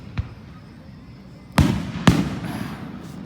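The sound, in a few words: Fourth of July fireworks exploding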